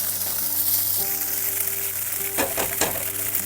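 Tofu sizzles steadily in a hot frying pan as it dries out, a continuous crackling hiss with a brief louder burst of stirring midway, no voices.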